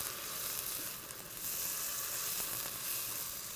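Garlic, oregano and chili powder sizzle steadily in hot oil as they are stirred in a pan, a dense, continuous frying hiss close up with faint stirring scrapes and no talking.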